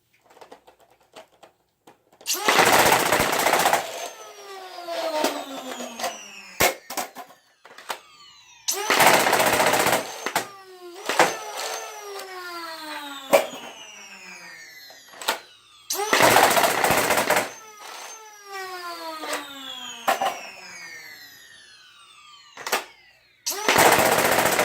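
A fully 3D-printed FDL 2X blaster fires on full auto at 100% speed, loud rapid bursts of darts in four long strings separated by quieter pauses with whirring mechanical tones.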